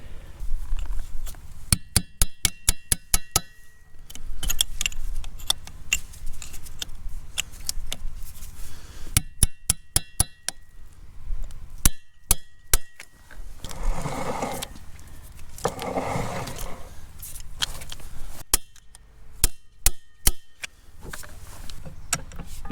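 Sharp metallic hammer strikes flattening fold-over lock tabs on a sprocket nut of a Caterpillar RD-6 tractor, delivered in quick rhythmic clusters with pauses, close and loud in a workshop.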